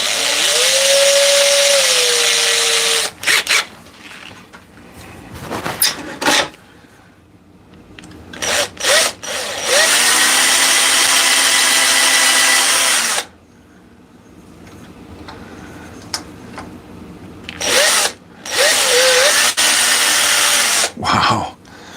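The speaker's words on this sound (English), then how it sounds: "we're gonna drill a little hole in the top for a hanger" A power drill bores a small hanger hole into the top of a wood-turned piece, sounding as loud, whining bursts that start and stop several times with short pauses between them.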